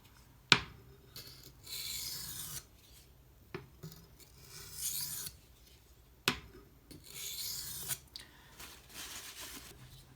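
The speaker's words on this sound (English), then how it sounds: "As long as that edge is on the stone, you should be able to grind it." A knife edge held in a Hapstone T1 clamp is drawn across a sharpening stone in repeated gritty rasping strokes, each pass preceded by a sharp tap or click, quiet and close with pauses between strokes.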